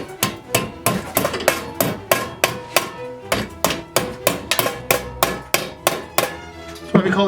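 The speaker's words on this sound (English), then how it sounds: "Hammer them down." Steady hammer blows driving down the clipped ends of a staple on a greave, about fifteen sharp, close, evenly spaced strikes ringing out alone.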